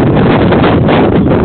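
Steady, loud wind buffeting a microphone outdoors, a constant low rumbling roar that fills the whole short stretch with no pauses and no voice.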